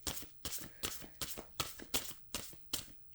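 Tarot deck shuffled in a steady rhythm of about eight crisp, close papery bursts spaced roughly half a second apart, with no voices.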